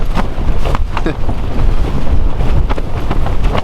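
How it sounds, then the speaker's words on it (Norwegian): A small tent flaps and shakes in strong winter wind, with repeated sharp fabric snaps over a constant gusty roar close to the microphone. "Det danser selvfølgelig i vinden når det blåser såpass som det gjør nå."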